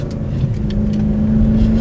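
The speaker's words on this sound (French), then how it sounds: "Qu'est-ce qu'il est chouette ce moteur" A car engine runs at speed, a loud, steady droning hum with a strong low tone that rises slightly toward the end, close and alone, with no voices over it.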